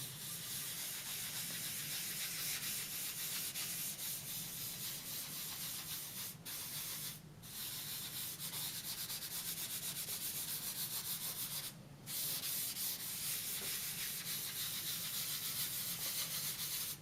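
Graphite powder rubbed and blended across drawing paper, a steady close dry scrubbing hiss that runs almost continuously, with a few brief pauses where the rubbing lifts off.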